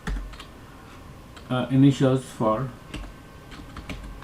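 Typing on a computer keyboard while working in FontCreator font software: a few quick clusters of close key clicks, with a voice heard alongside.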